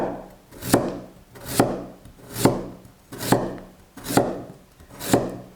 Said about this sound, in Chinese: 2个紫薯去皮切片